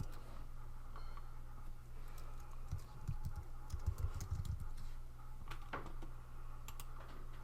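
Typing on a computer keyboard: a short run of soft, quick key clicks close by over a steady low hum, with no talking.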